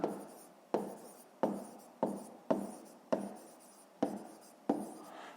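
Handwriting with a pen on paper while working a fifth-grade math problem: eight or so distinct scratchy strokes, each starting with a sharp tap and fading, close up and evenly spaced, no talking.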